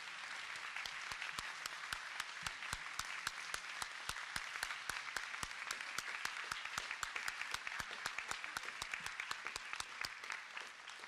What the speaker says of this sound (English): Can we please give a round of applause to all of our administration and our faculty